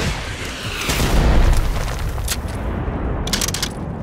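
Gunfire in the video game Generation Zero: a heavy booming burst swells and rumbles, then a short run of sharp, crackling shots follows near the end.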